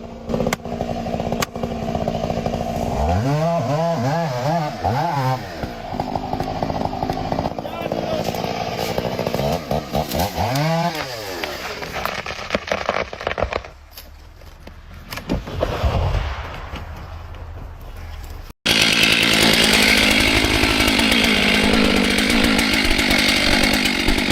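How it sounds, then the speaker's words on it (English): A chainsaw roars and revs repeatedly as it bites through a tree stump, loud and close, with a voice speaking over it. "The chainsaw roars, its sharp blade slicing through the timber"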